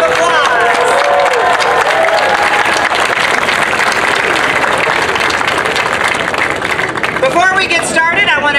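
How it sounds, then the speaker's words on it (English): An outdoor crowd at a Louisville City FC soccer stadium groundbreaking ceremony claps loudly and continuously, with scattered cheers and voices mixed into the sustained applause. "give them a big round of applause"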